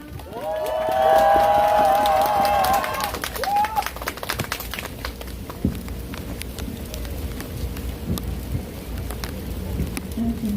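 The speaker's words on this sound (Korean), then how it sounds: "박수 부탁드립니다." Crowd applause at a rally of medical students' parents protesting outside the education ministry, a loud burst of clapping in the first few seconds that fades into scattered claps and outdoor crowd noise, with a faint voice near the end.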